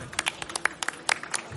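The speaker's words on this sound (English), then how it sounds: "It's just so much more fun when we applaud." Audience applause at a panel event on semiconductors and net zero, with scattered, uneven claps in a moderate, fairly brief burst and no talking.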